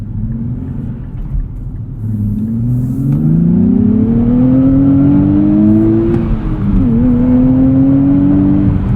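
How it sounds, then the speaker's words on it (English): A 2023 Nissan Z engine pulls hard under acceleration, its slightly coarse, rough tone climbing steadily in pitch over several seconds with a brief dip at a gear change, loud and close with no talk. "Engine's still a little bit coarse and rough sounding, but it is smoother than the 370's V6."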